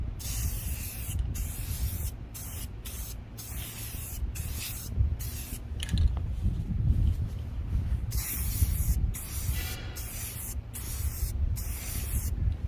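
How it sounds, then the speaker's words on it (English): Rust-Oleum satin canyon black spray paint hisses from an aerosol can in steady bursts during a second coat, each spray broken by short pauses, fairly close with no talking. "Okay, and second coat on this side."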